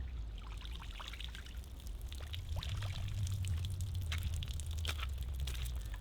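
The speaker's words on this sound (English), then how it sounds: "Water just running out of it." Water pouring and trickling out of an AK-47 rifle after submersion during a torture test, a steady close splashing stream with low rumbling noise underneath.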